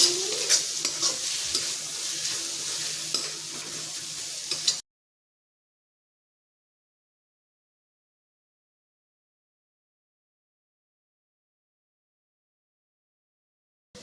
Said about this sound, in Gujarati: બધા જ આપણે મસાલાને સરસ શેકી લઈશું